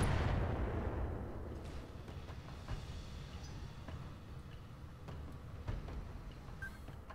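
A barrage of LRM missile impacts in the BattleTech game Roguetech opens with a heavy explosive boom and rumble, then fades into scattered, softer thuds and crackles.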